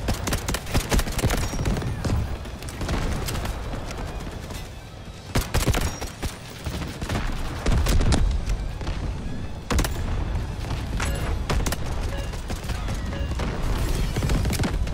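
Incoming artillery in the Delta Force game, with sharp booming impacts striking at intervals through a dense roar of gunfire and battle noise, loud and close.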